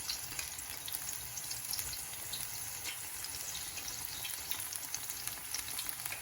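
Spinach pakora fritters frying in hot oil over high heat give a steady, dense sizzle with fine crackling throughout, close and constant, with no voices.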